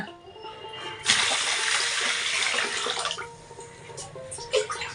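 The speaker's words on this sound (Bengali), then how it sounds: "চাল ভিজেতে ভিজাতে ভুলে গিয়েছে আমি এখন ভিজিয়ে দিই" Water rushes from a tap into a vessel to soak rice in a kitchen, a steady splashing pour of about two seconds that then eases off, with faint clinks near the end.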